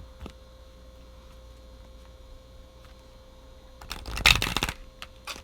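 Quiet hum for several seconds, then a short burst of tarot cards being riffled and shuffled close by.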